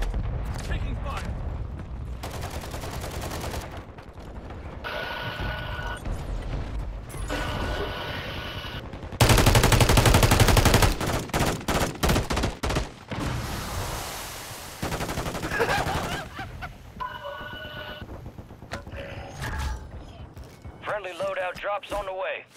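Gunfire in the video game Call of Duty MWIII on Rebirth Island, with bursts of shots, mechanical clatter and a loud dense volley midway, mixed with game sounds and voices talking throughout.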